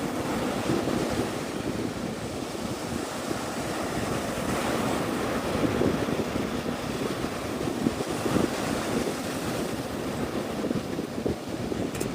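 Ocean surf washes steadily onto a crowded beach, a broad, continuous roar of waves mixed with wind buffeting the microphone. The sound holds a fairly even loudness for the whole stretch, and no one speaks.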